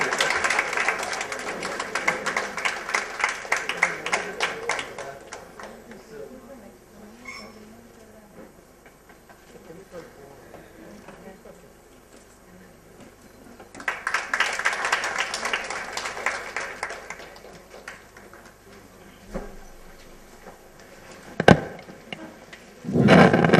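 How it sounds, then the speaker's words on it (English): A seated audience at an academic felicitation for a retiring professor rises for a standing ovation, two bursts of dense rapid clapping separated by a quieter lull, fairly distant, with no talking. "give him another round of applause, a standing ovation"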